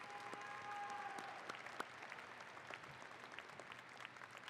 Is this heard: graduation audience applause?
yes